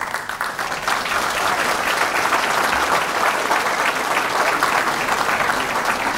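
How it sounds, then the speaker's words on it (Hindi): A large mushaira audience breaks into loud, sustained applause to welcome the guests, a dense wash of clapping that holds steady and close throughout, with no talk over it. "मैं चाहता हूँ एक बार ज़ोरदार तालियों से हम उनका इस्तक़बाल करें"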